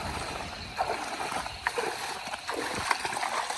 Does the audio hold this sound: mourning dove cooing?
no